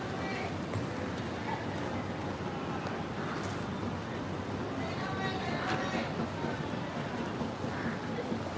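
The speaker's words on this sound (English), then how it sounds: "I'm going to wait for this tram to pass." A tram rolls past on a busy Hong Kong street between North Point and Fortress Hill, a dense steady rumble with rattling wheels and faint squeals over constant traffic and city noise, with no clear talk.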